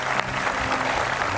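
Brief, dense burst of audience applause on an Indonesian television show, a steady crackling wall of many hands clapping at once and fairly loud throughout its short length.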